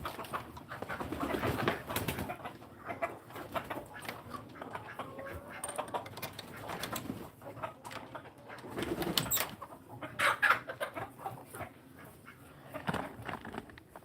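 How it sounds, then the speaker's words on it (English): Farm chickens cluck and coo in a steady, overlapping chorus close by, with faint ambient rustling underneath and no talking. "We'll go feed these other chickens."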